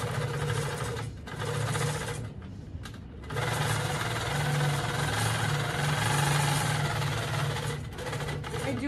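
A Handi Quilter longarm quilting machine stitches fabric with a loud, rapid mechanical whirr and steady needle hum, pausing briefly twice before running on continuously.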